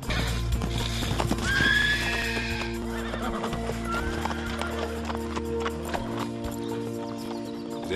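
A horse neighs loudly in a long whinny while hooves clip-clop at close range, followed by steady hoofbeats and faint background sounds.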